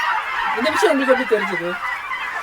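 A chicken on a poultry farm calls out in a few short clucking, honking notes over a steady background hiss, close by and fairly loud.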